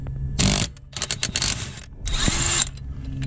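Power tool loosening a pulley bolt on a 2009 Hyundai Accent engine, with short close whirring bursts and mechanical clatter across a few seconds.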